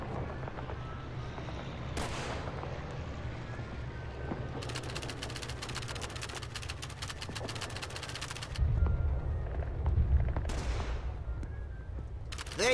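Gunfire at helmet targets on a shooting range in Call of Duty 3 on Xbox 360: a dense string of rapid, sharp shots in the middle, with scattered single cracks before and after over low game ambience.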